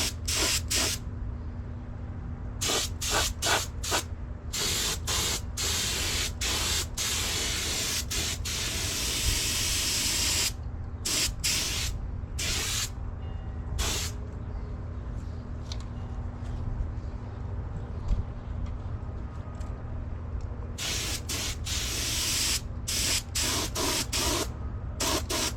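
Spray gun hissing steadily as the final coat goes onto a part for a 1972 Honda CB500 Four motorcycle, a long continuous spray broken by short pauses and quick bursts near the start and end.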